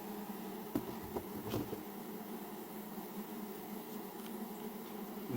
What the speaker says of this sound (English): gonna be a lot of bees in here